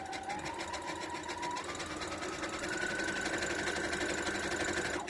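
A sewing machine runs steadily for several seconds, its rapid motor whir and needle stitching holding close and even, with the hum stepping up in pitch partway through as it speeds up, while quilt squares are being pieced.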